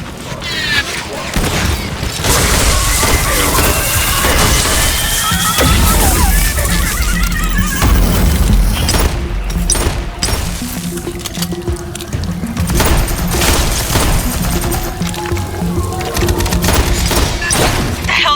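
Gunfire in the sci-fi shooter Aliens: Fireteam Elite bursts and booms through a loud, chaotic co-op battle, layered with crashes, thuds and mechanical effects, with occasional voices underneath.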